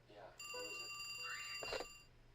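A telephone rings with bright electronic tones in the game Trauma Center: New Blood, sounding steadily over a faint voice and other game sounds before a short burst of noise.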